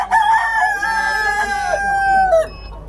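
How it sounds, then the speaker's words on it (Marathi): A rooster crows loudly and close at an agricultural exhibition, one long drawn-out call with chickens clucking faintly around it. "त्या ठिकाणी इथे कोंबड्या,"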